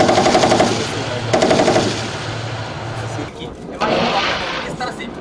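Army gunfire rattles out in two loud automatic bursts near the start during a military training exercise on sandy ground near Bikaner, followed by heavier booming shots later, with someone talking over it.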